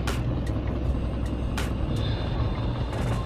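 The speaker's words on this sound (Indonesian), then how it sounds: "jadi suara mesin yang agak pincang" Car engine idling rough with a misfire, a vacuum brake booster leak suspected; a steady low rumble runs throughout with short hissing bursts at intervals, no talk.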